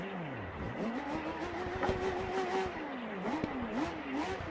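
A BMW S1000 RR racing motorcycle engine revs repeatedly, pitch rising and falling with each throttle blip, heard from a moderate distance over background noise.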